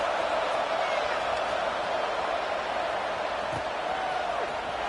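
A stadium crowd in a football video game keeps up a constant, even roar and murmur, with no distinct cheers standing out.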